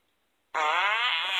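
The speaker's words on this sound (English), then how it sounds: "The fart button, instead of Tom farting like in the original, Ben farts." Cartoon fart sound effect from the Talking Tom 2 mobile game, where the character Ben farts: one sudden loud buzzy blast lasting about a second after silence.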